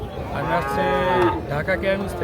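Cattle at a livestock market where Friesian calves are sold, with one loud, close, drawn-out moo followed by a shorter second low call.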